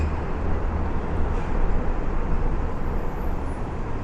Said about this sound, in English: I figured I'd start us out with an abundant amount of traffic noise